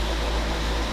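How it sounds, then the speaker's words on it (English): An electric fan runs steadily during a house clean-out, giving a continuous, even whir and airy hiss that holds at a constant level from start to finish with no talking. "Sorry about the fan."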